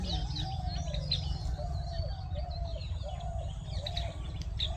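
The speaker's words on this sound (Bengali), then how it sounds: "টিয়া পাখি নয় কিন্তু এরা, ওই বন টিয়া গোছের কিছু একটা পাখি।" Wild parakeet-like birds near the Sundarban forest give a series of repeated chirping calls at a moderate distance over a steady low rumbling background, with no talking.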